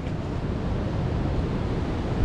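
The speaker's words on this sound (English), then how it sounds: "you can hear that wind howling" Wind roaring steadily during a storm beside a trout stream in Berks County, a constant loud rushing wash that swells slightly toward the end, with no voices.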